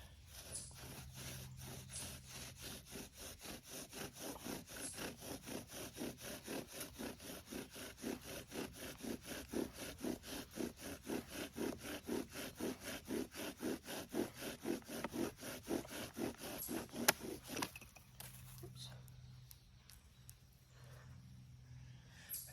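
A bow drill spindle grinds against a book in a friction fire attempt, making a fast, steady back-and-forth rasping saw-like rhythm close up that continues for most of the clip, then stops and gives way to quiet.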